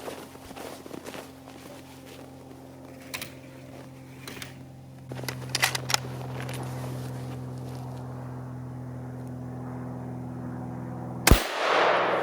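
A 7mm Remington Magnum rifle firing Barnes 120-grain TTSX loads over a chronograph gives a single sharp, loud report near the end, after a stretch of low steady background hum and small knocks.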